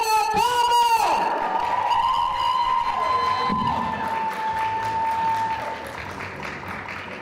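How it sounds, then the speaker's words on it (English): Applause and cheering from an audience at a high school valedictory service, a burst of shouts and clapping that fades into sustained softer clapping with a few taps. "Ladies and gentlemen, please give her a round of applause."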